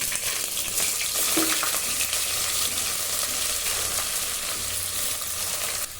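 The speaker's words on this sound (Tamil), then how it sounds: "நம்ம ஆல்ரெடி நறுக்கி வச்சிருக்க ஒரு 5 பெரிய வெங்காயம் அதை சேர்த்துக்கிடுவோம்" Five large chopped onions frying in oil and ghee for chicken dum biryani give a steady, close, continuous sizzle with faint crackles and occasional stirring scrapes, no voices.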